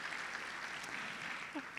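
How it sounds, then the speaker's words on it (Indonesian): A church congregation claps during a sermon, a dense, moderately distant spread of applause that holds steady through the short stretch. "Yang percaya beri tepuk tangan dong buat Tuhan kita Yesus Kristus"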